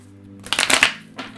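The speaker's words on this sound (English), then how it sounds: "Alright, deck doesn't want to shuffle anymore." A deck of tarot cards being shuffled up close, a short burst of riffling card noise lasting about half a second followed by a brief softer flick.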